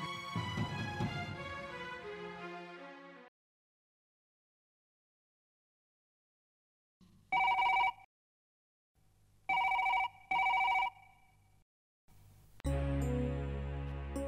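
Outgoing phone call ringback: after a few seconds of silence, several short electronic ring bursts in a repeating pattern, clear and close, with some music before and after.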